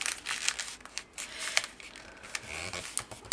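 Paper crinkles and rustles as a paper bag is folded and pressed into a groove while making a purse, with close, quick crackling bursts in an uneven rhythm and no talking.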